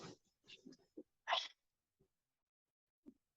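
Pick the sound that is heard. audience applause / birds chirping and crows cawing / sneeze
sneeze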